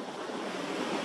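Large ocean waves of a 3–5 ft swell break on the shore at Blackpool just after high tide, a dense, continuous roar of surf mixed with wind.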